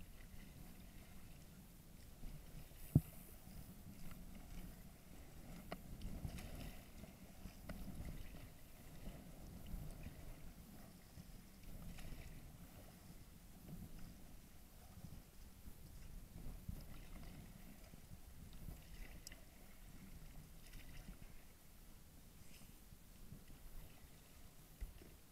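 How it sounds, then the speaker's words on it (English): Paddles work a small boat along near a windy shore. Faint, low water sloshes and splashes come at irregular intervals under steady wind rumble, with one sharper knock near the start. "We gotta paddle a bit."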